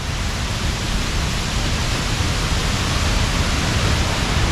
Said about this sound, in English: here we are on top of the waterfall.